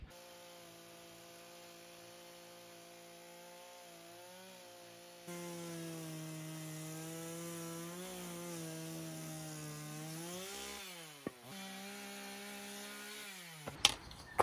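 Power saw cutting wooden roof rafters on a house roof under construction, a steady buzzing drone running for about nine seconds with pitch shifts as the blade loads, then stopping with a few brief knocks.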